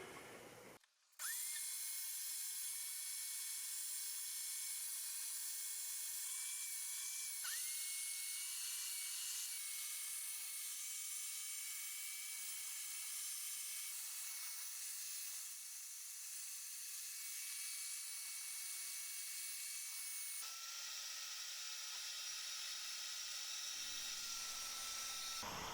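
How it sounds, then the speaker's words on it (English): Floor cleaner running as it scrubs loose dirt and sucks it up, a loud, continuous high motorized whine with airy suction hiss that shifts pitch a few times, close by and with no talking. "this will scrub any loose dirt and then suck it up into here"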